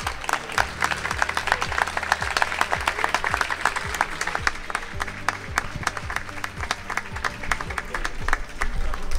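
An outdoor garden party crowd at a Paris hospital gives steady, sustained applause for Lionel, dense clapping at moderate distance for about nine seconds.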